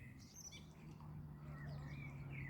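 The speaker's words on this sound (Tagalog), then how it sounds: "nalilibang naman ako sa huni ng ibon" Faint birds chirp in the distance over a steady low hum, their calls soft and scattered.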